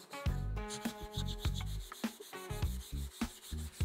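A kitchen knife is sharpened on a whetstone with repeated rhythmic scraping strokes, close and fairly quiet, each grinding rub following the last in a steady back-and-forth pattern with no talking.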